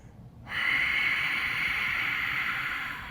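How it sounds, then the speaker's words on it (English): A steady, breathy rushing Ujjayi yoga exhale through the nose and a constricted throat begins after a brief silence, a soft ocean-like hiss sustained close to the listener. "the Ujjayi breath is a breathwork technique where you breathe in and out of your nose"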